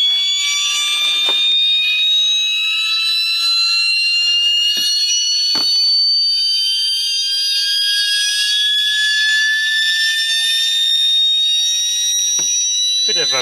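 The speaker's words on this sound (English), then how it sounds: "One loud hard drive." A loud hard disk drive Tesla turbine whines steadily with a high pitch slowly rising, accompanied by a few brief clicks and knocks, close and continuous.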